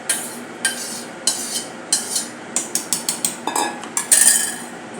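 A spoon scoops ripe raw-mango pulp into a steel mixer jar, with a run of sharp metallic clinks and scrapes repeating roughly every half second, close and clear with no talk.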